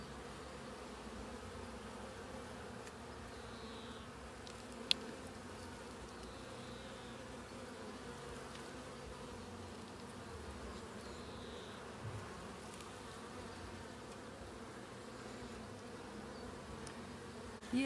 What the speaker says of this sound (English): There's usually a host of other bees dancing around her.